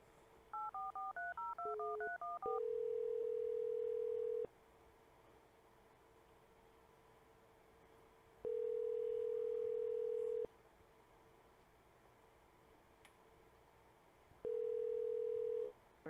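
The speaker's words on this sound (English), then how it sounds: "It should ring." Touch-tone keypad dialing from an automated scam-baiting bot's outgoing call, followed by a steady ringback tone repeating in long bursts with quiet gaps between them. No one speaks.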